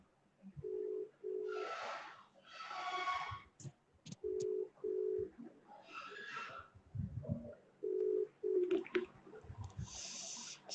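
Repeated phone ringback tones from a call that will not connect: short paired beeps recurring at intervals, interspersed with faint rustles, clicks and brief noisy bursts at low level.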